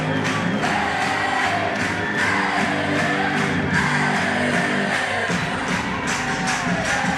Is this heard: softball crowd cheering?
yes